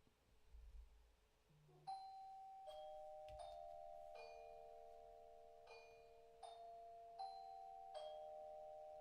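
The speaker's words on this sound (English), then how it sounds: "That's my doorbell." A home doorbell rings repeatedly with bright, clear chime tones, several rings overlapping and fading, loud against a quiet room with no talk.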